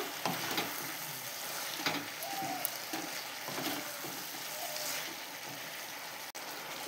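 Boiled pumpkin and potato are stirred with sugarcane jaggery in a pan, giving a steady soft sizzle with scattered scraping stir strokes throughout, close and moderately quiet, with no talking.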